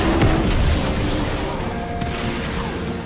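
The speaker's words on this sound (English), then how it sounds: "All of the shooting and explosions in this game make it feel like a Michael Bay movie come to life" Continuous booming explosions and gunfire from the open-world action game Just Cause, a dense, loud rumble of blasts and mechanical clatter that fills the whole stretch without pause.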